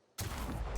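A single loud gunshot in the video game The Outer Worlds, a sudden blast after brief quiet that rings on with a broad rumbling tail.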